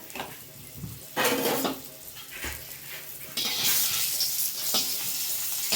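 Bitter gourd (kakrol) hits a pan of a little oil sprinkled with turmeric, bursting into loud close sizzling with clatters of utensil against pan, the frying growing louder in two surges.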